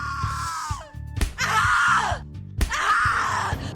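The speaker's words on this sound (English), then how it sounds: "Scream louder, little bitch. Scream your lungs out." A victim screams and groans in a narrative horror video game, with two long, loud, strained cries broken by short gasps over a low rhythmic musical drone.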